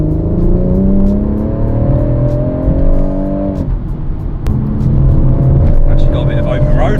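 BMW M140i engine note under hard acceleration, a loud, steady rising drone that eases briefly mid-clip and then climbs again, with people talking over it inside the car.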